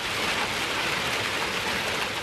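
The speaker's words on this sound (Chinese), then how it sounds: "首都贝尔格莱德等地冰雹如雨下" Heavy rain with hail pouring down in Serbia, a loud, continuous dense hiss and patter with no breaks and no voices.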